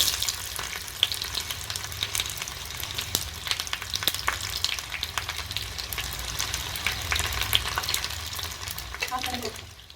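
Onions frying in hot oil with mustard seeds and fenugreek for vendakkai (okra) sambar, a steady close sizzle with scattered crackles and pops throughout, soft scraping now and then, no talk.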